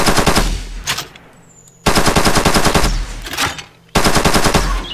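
Rapid automatic gunfire from the first-person shooter Urban Terror HD, loud and close, comes in three sustained bursts separated by brief pauses, with no talking.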